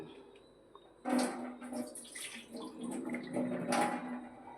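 After a brief quiet moment, tap water runs and splashes softly as vegetables are rinsed under it, close by with uneven gushes.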